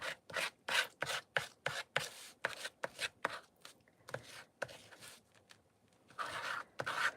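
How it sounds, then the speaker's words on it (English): Dried Cosmic Shimmer paste being scraped across a surface in a quick, rhythmic series of close, rasping strokes. It grows softer and more irregular toward the end. "don't you just love the scrapey sound?"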